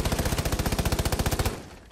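Automatic rifle fire in the video game Rainbow Six Siege: a fast, even burst of about twenty shots at a steady rhythm for a second and a half, then an echoing tail as it stops.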